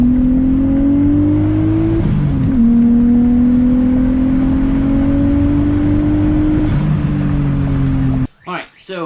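A Nissan 240SX running reduced boost before a retune pulls hard, its engine note climbing steadily with a brief dip at a gear change, then cuts off abruptly near the end, loud and close.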